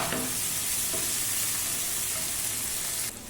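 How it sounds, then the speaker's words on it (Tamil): Tomatoes sauté in a pan for an okra gravy, giving a steady close sizzle and hiss throughout with a few faint stirring knocks, no voices present. "தக்காளி நல்லா வதங்கிட்டு இருக்கு"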